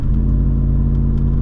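A 1996 Camaro SS muscle car's engine gives a deep, steady low rumble from inside the cabin during a drive, loud and continuous with no talk.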